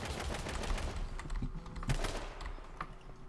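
Gunfire in the battle-royale game H1Z1, including shotgun blasts: a rapid burst of shots early, then a few sharper isolated bangs among game noise and clicking, fairly faint overall.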